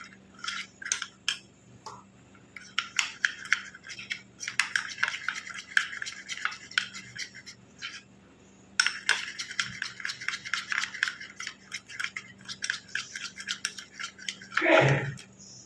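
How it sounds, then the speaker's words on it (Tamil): A spoon scraping and clinking in a bowl while juice is mixed into a thick homemade face pack, with soft irregular strokes in bursts and a brief louder knock near the end. "நல்லா கட்டிகள் இல்லாமல் மிக்ஸ் பண்ணிக்கலாம்."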